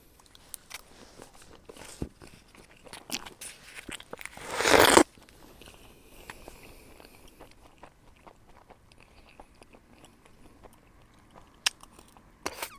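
Someone eating a triangle kimbap rice ball while camping on Hario Island in Kyushu: soft bites and chewing at close range, with a loud crinkly burst in the middle, then quieter munching and small crackles.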